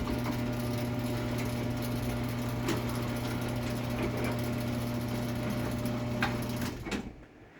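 A Sears garage door opener drives a small mini door, giving a steady humming motor whine with chain rattle and a few knocks. It runs evenly and close, then cuts off abruptly near the end.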